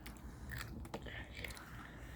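Crisp crunching bites on a dry, hard Ukrainian bread snack, a few sharp cracks close to the mic, with faint chewing between them.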